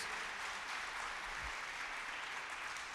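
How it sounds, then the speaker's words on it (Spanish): A church congregation applauds in a continuous, even roar of clapping, faint and distant, with no talking heard. "Denle un aplauso fuerte al Señor."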